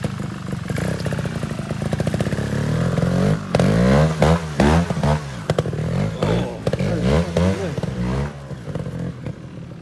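GasGas trials motorbike engine revving hard outdoors in woodland, a loud continuous roar with repeated sharp throttle blips and surges through the middle, close to the listener, no talking.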